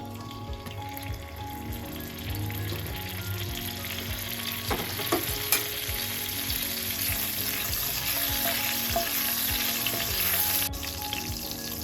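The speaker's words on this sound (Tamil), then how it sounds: "ஆயிலில் ரெண்டு பட்டை மூணு கிராம்பு போட்டுக்கிறேன் கொஞ்சோண்டு சீரகம்" Two cinnamon sticks, three cloves and a pinch of cumin fry in hot oil, crackling and sizzling continuously up close with scattered sharper pops throughout.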